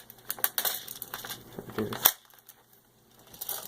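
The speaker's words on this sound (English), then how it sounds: "You put it in, you have to put it in like an AK mag. Push this in first, and then you pull in the back." A magazine is rocked into a JG T3-K3 G3 airsoft rifle: close plastic rattles and scrapes lead up to a sharp click as it seats, followed by a few faint clacks.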